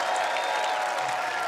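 A steady wash of applause from an arena crowd in Stockholm cheering Astralis at the ESL Pro League esports event, dense and continuous with no breaks, filling the whole hall.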